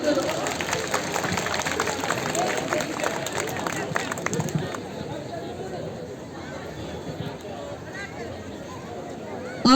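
A concert audience at an Erbaa disability association event claps and chatters to welcome a singer to the stage. Dense applause and crowd babble fill the first half, then thin to a quieter murmur.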